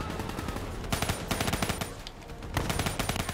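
Continuous automatic gunfire from the Black Ops 3 shooter game on realistic difficulty: loud, rapid, close bursts hammering without pause through the whole stretch.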